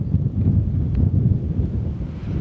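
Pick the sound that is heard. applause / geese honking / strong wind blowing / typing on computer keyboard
strong wind blowing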